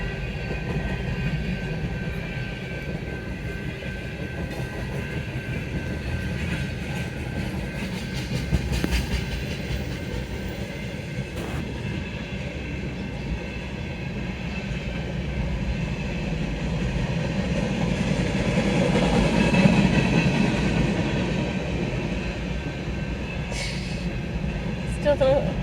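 A long freight train rolls steadily past on the rails in Minneapolis, giving a continuous rumbling, clattering roar that stays fairly level for the whole stretch, heard from nearby with faint voices under it.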